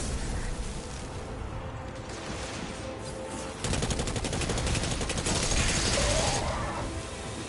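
Hand cannon fire in a video game makes dense, rapid bursts of gunshots over a steady roar of battle noise, with heavier volleys partway through.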